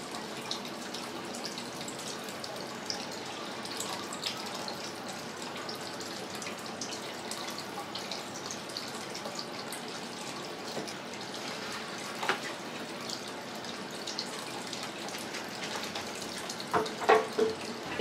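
Water runs steadily from a kitchen tap while rice is rinsed in a bowl, a soft continuous splash with occasional clinks and louder splashes near the end.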